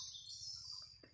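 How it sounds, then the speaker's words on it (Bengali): Birds chirping in a sal forest, a faint continuous high twittering chorus with a few separate chirps over a low background hum. "পাখির কোলাহল ডাক অনেক সুন্দর লাগতেছে।"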